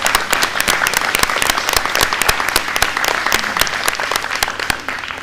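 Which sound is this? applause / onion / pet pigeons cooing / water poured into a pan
applause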